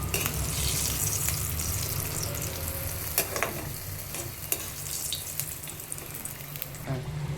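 Frying and stirring for a Kerala-style beef curry, with a steady hiss of hot oil and scattered scraping and clinking of a spoon against the pan throughout, close and continuous.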